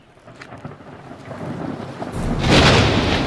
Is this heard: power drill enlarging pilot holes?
no